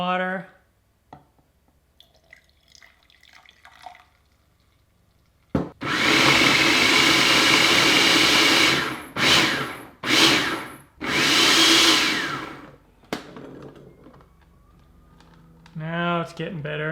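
A kitchen blender purees dates with a little water into caramel, roaring loudly in several bursts that start and stop abruptly, with quiet gaps and some talking before and after.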